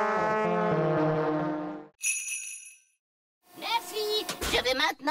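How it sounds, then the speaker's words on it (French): Cartoon elves blow horns in a loud, sustained, brassy honk, followed by a brief high tinkling chime and then a burst of animated voices and horn-like tones. "Les elfes aiment souffler dans leurs cornes."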